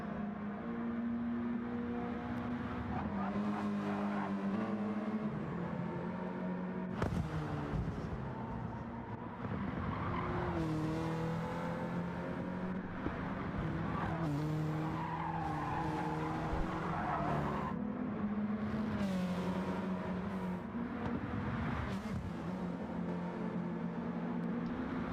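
Race cars in a GTC World Cup racing video game roar steadily near pit entry, engines droning and shifting pitch while tires squeal and skid throughout, with no talk over the continuous noise.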